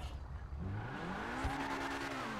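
A sports car in GTA Online drives and accelerates, its engine note climbing steadily in pitch with a brief thump midway, heard fairly quietly on its own.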